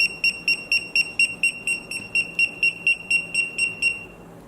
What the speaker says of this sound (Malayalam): അവസാനമായി അലേർട്ട് എന്ന ഓപ്ഷൻ ക്ലിക്ക് ചെയ്താൽ ട്രാക്കറിൽ നിന്നും കണ്ടിന്യൂസ് ബീപ്പ് സൗണ്ട് മുഴങ്ങും